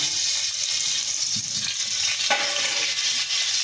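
Onions frying in oil in a pan for a desi chicken korma, a steady close sizzle with soft stirring scrapes and no voices.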